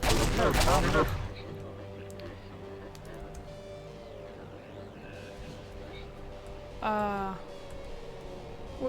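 A burst of gunfire from a shooter video game, loud at first and then giving way to quieter in-game effects and another short burst later, with a player talking over it.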